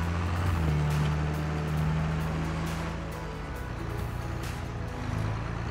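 A vehicle in Farming Simulator 22 drives with a steady, fairly loud engine drone that shifts pitch slightly as it rolls along, with no talking over it.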